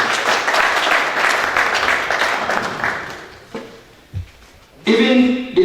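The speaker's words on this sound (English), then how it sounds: "Another applause for you," Audience applause at an African celebrities magazine launch event, a dense clapping wash for about three seconds that fades out, followed by a few thumps and a voice speaking.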